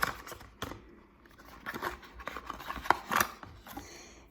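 A small cardboard box from an Action beauty advent calendar is opened close by, with soft scraping, rubbing and tearing sounds and a couple of sharper snaps near the end.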